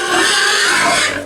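Pigs on a farm with a herd of over 50 adults, one close animal giving a continuous breathy, grunting squeal that holds steady for about a second before trailing off.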